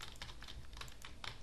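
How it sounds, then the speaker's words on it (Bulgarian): Computer keyboard keys clacking in quick, uneven bursts during a World of Warcraft game session, faint and close with no voices. "можете да чувате едно траскане на клавиатурата, когато играя World of Warcraft"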